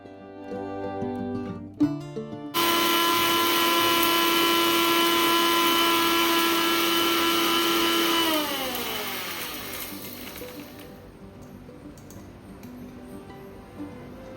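A mixie jar grinds roasted spices into powder, starting with a few short pulses before running as a loud, steady whine for about six seconds, then slowing as the motor winds down, with no talking.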